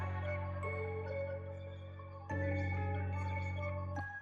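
Dark trap loop made in FL Studio with a vocal, a bell and accent textures layered over heavy sustained bass, with a sharp hit near the middle and another near the end, continuous and full.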